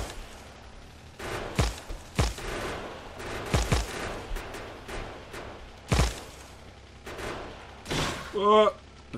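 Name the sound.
gun turret firing in Factorio video game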